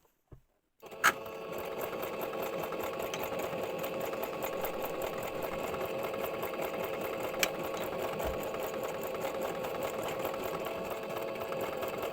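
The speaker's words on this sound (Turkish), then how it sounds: "İki lastiği üst üste koyuyoruz ve birkaç dikiş yapıyoruz." A sewing machine runs in one long, steady, fast stitching burst after a short click, sewing two stacked elastic bands together for a skirt waistband; close and continuous with no talking.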